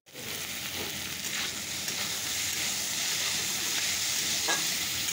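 Potato and cauliflower frying in a pan: an even, close sizzle that starts abruptly and holds a steady hiss throughout, with faint stirring and no speech.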